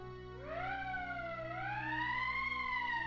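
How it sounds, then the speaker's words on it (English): An emergency siren wails loudly and alone, its steady tone rising, dipping and rising again over about three seconds. "That's the emergency siren."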